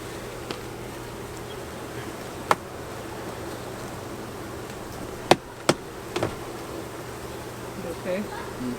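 Bees swarm close to the microphone near a drone and a hive box, a steady insect buzz running through the whole stretch, broken by a few sharp knocks and clicks, while people talk nearby.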